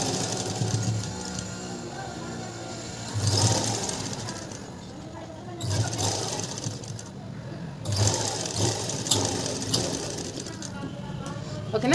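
A sewing machine stitches blouse lining in quick bursts, a close rhythmic mechanical chatter that surges and pauses every few seconds while someone talks over it.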